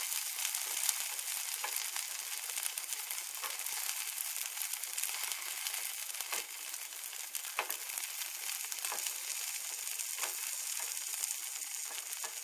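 Scrambled eggs cook in butter in a pan over turned-down heat, producing a steady, close, crackling sizzle that continues without a break and with no talking.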